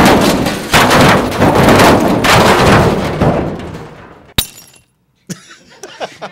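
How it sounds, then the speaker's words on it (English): Sound-effect gunfire and breaking crashes for tabletop D&D play, loud and dense with rapid bursts, then a sharp impact and brief scattered debris near the end. "it's always good to have some automatic machine gun fire"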